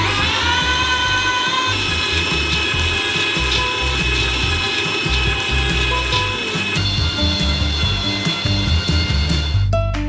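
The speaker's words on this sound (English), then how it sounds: "We transfer them into a meat grinder. And grind them through a small nozzle." A meat grinder forces gummy candy through a small nozzle, making a loud continuous mechanical grinding and whirring with ratcheting clicks and a steady motor whine throughout, no voices.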